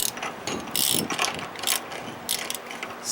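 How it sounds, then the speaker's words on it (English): A ratcheting spindle nut on a Dana 44 TTB front axle clicks rapidly as it is torqued down during a wheel bearing service, with bursts of metallic ratchet clicks coming close and loud in several short runs. "once it starts ratcheting, it's gonna be very hard for this thing to come apart"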